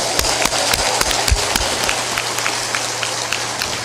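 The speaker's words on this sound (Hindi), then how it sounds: "ताली बजा दो जोरदार" Audience at a religious gathering clapping loudly on request: rapid, dense massed clapping with sharp individual hand claps standing out close by, continuous and loud across the clip.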